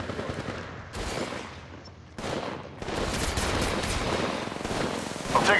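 Rapid gunfire in Apex Legends Mobile, loud bursts of automatic shots rattling in dense volleys with short pauses between, near and continuous through most of the stretch.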